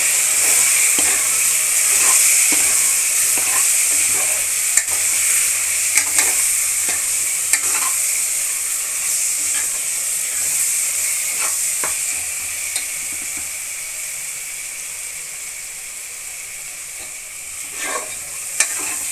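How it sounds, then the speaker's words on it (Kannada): Tomato bath mixture with garam masala stirred in a pan: loud, continuous frying sizzle with light, irregular scrapes and taps of the spoon, and no voices. "ಹಾಕ್ಕೊಂಡು ಒಂದೊಳ್ಳೆ ಮಿಕ್ಸ್ ಕೊಡಿ."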